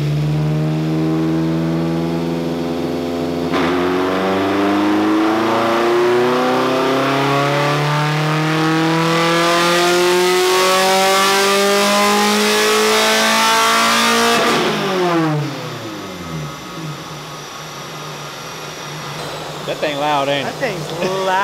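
A track-ready Mazda Miata engine screams at high rpm on a dyno. The pitch climbs steadily under sustained full-throttle roar, then falls away as it winds down, loud and close throughout.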